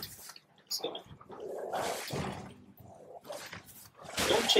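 Summoned spirit dogs in the video game Elden Ring growl and snarl in short bursts amid combat noises, loud and close, with uneven pauses between the aggressive outbursts.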